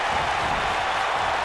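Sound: wrestling crowd cheering in the video game WWE 2K19

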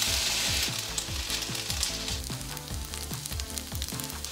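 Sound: vegetables sizzling in a hot pan with oil

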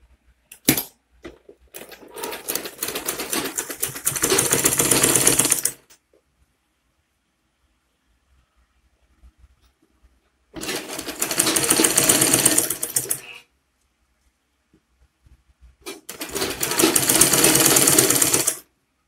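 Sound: sewing machine top stitching Ankara fabric flat cap

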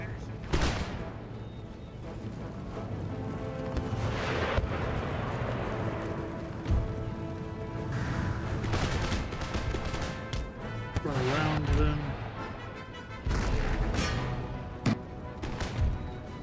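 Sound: shrapnel artillery fire in video game Empire Total War

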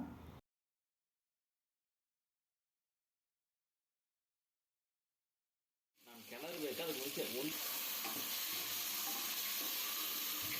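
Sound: marinated chicken added to pan with tomatoes, sizzling

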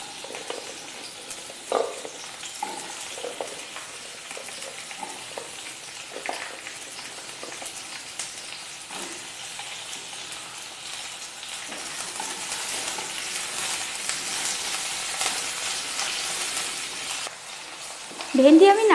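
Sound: okra being stirred and fried in mustard oil

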